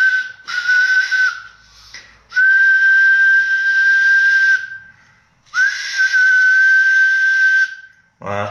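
Whistle blown into a CB radio microphone for a transmit power test on a 1976 Hy-Gain 8, three loud sustained tones separated by short gaps, with a brief voice at the very end.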